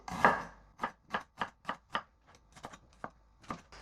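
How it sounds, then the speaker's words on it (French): Ginger with its skin left on is sliced finely with a knife on a board, giving about a dozen crisp, separate chops in an uneven rhythm, close and clear with no voices. "On émince finement le gingembre en gardant la peau."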